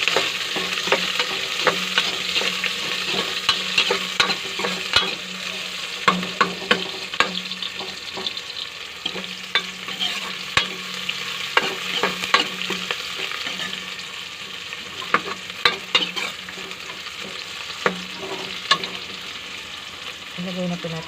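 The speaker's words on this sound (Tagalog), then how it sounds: "igisa na po natin ang ating bawang. Isunod na po natin ang ating sibuyas." Garlic and onion sautéing in a pan, a steady sizzle with frequent sharp clicks of a spatula stirring and scraping, close and sustained.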